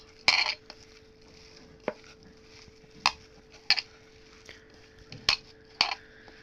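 Beef kabab meat being mixed by hand with chopped ingredients in a bowl, with scattered clinks and soft wet knocks at an uneven pace, fairly close, with no voices.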